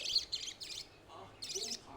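A pet bird in a cage chirps in short bright bursts, several quick tweets close by, with a voice speaking softly between them.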